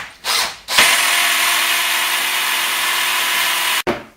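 A power drill runs steadily at high speed while driving screws into a uPVC window frame, a loud continuous whine starting after a couple of brief bursts and cutting off near the end.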